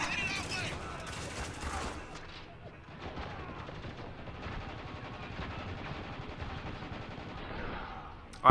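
Gunfire in the video game Spec Ops: The Line, a steady, muffled spread of distant shots and battle noise that continues throughout and ends in a sharp loud burst, with a voice talking over parts of it.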